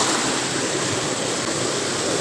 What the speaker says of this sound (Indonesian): inilah sungai kami